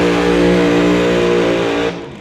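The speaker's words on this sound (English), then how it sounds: "big-time burnout over there in the Lordco Auto Parts lane" Drag car doing a burnout in the Lordco Auto Parts lane at a Doorwarz drag racing event, a loud, steady engine roar held at high revs before cutting off abruptly near the end.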